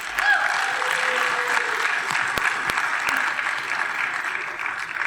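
Applause from a wedding reception crowd in a Dallas venue: dense, steady clapping that keeps on for about five seconds at moderate loudness, with a few sharp claps standing out.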